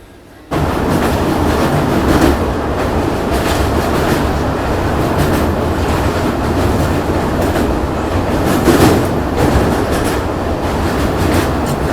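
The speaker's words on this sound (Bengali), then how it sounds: "এদিকে আমাদের লোকাল ট্রেনও ছেড়ে দিল" A local train pulls away on the Kolkata to Puri line. A dense, loud rail roar begins abruptly and then holds steady with rattling wheel and carriage noise, close and continuous.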